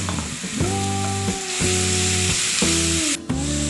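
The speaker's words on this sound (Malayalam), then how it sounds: "ഇനി ഈ നെയ്യിലേക്ക് തന്നെ നമുക്ക് അരിഞ്ഞു വെച്ച ഏത്തപ്പഴം ഇട്ട് കൊടുക്കാം." Chopped ripe plantain (nendran banana) dropped into hot ghee sizzles steadily for Malabar kaaypola, the loud frying broken by a few stirring scrapes and brief pauses.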